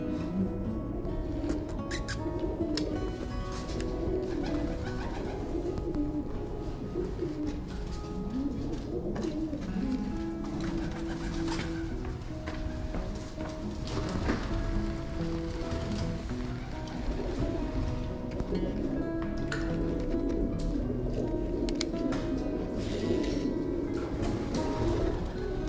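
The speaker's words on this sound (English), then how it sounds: "A pigeon just trying to land on a rod." Pigeon cooing beside fishing rods on a flooded river bank, repeated soft throaty coos over steady flowing water and outdoor ambience, fairly close and clear.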